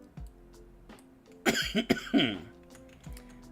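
A few harsh coughs in a quick cluster, close and fairly loud, with a brief softer sound before and after in an otherwise quiet room.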